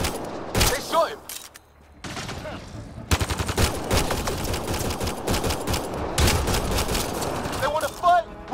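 Dense gunfire battle in the video game Mass Effect Andromeda: rapid overlapping bursts and shots crackle almost continuously, with brief lulls early on and voices speaking through the fighting.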